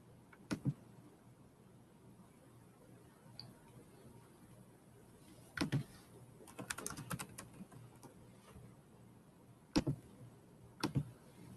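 A computer keyboard is tapped while writing a message: short, quiet bursts of clicking keystrokes separated by pauses against a low room hiss.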